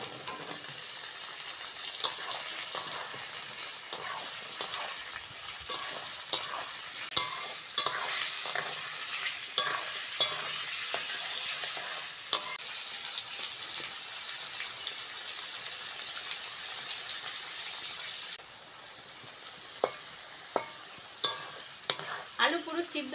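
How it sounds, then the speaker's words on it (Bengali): Potatoes and onions fry in a pan with a continuous sizzle and frequent stirring clicks and scrapes, the sizzle dropping quieter toward the end while spatula taps keep going. "কেটে ধুয়ে রাখা আলুটা দিয়ে দেবো। দিয়ে পেঁয়াজের সঙ্গে ভালো করে আলুটা ভেজে নেবো"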